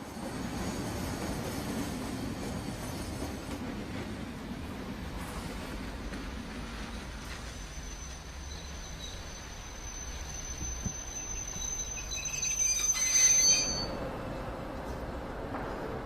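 A first-generation overhead-line electric multiple unit train rolls past at Springburn with a steady low rumble of wheels on track. A thin high whine rises near the end, and the whole pass sounds moderately distant.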